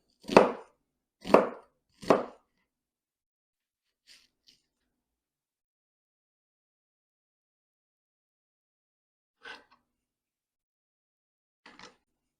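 Three sharp knife chops hit a board in quick succession, followed by long quiet and a few fainter, scattered taps.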